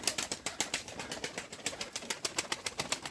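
A flock of tumbler pigeons flying outdoors, with dense rhythmic wing flapping close by, steady and fairly quiet, with no voices.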